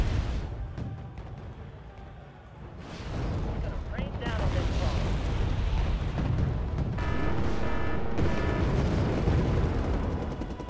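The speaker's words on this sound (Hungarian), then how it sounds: "Én is elkezdtem ágyúzni." Artillery barrages and explosions in the real-time strategy video game Wargame: Red Dragon, a dense run of booms and blasts that rumbles on continuously at full loudness with no clear gaps between impacts.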